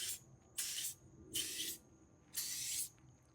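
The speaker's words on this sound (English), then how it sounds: "The spray comes out a little bit different. It seems like it comes out in 4 pattern." Chemical Guys ShineLogic tire shine sprayed in three short hissing bursts, evenly spaced and close, with quiet gaps between and no voices.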